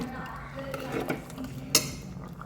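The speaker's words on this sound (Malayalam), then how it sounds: "കുക്കർ തുറന്നു ഈ മത്തങ്ങ ഒന്ന് ഉടച്ചെടുക്കാം" Cooked pumpkin is mashed inside an opened pressure cooker, giving soft close scraping and clattering metal contacts with a sharper clink near the end, no talking.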